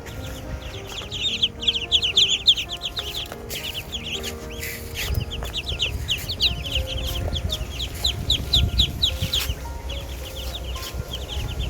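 Five-day-old ducklings near their nest with their mother keep up a dense, continuous chorus of high peeping calls, close and fairly loud, with no talking.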